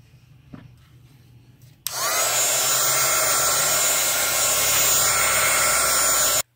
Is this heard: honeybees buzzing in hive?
no